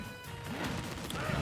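Ground smash hits in a Super Smash Bros tournament match, dense rapid crashing thuds and whacks layered over busy game music and crowd noise, loud and continuous.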